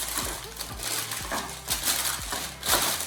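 Crisp, irregular crinkling of parchment paper being crumpled and pressed into a pan, in several uneven bursts close by.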